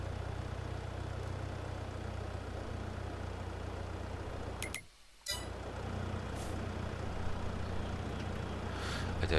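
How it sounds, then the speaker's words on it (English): Tractor or farm vehicle engine idling in Farming Simulator 22, a steady, droning, low rumble held continuously with a brief dropout midway, with no talk. "Why will the engine not switch off?"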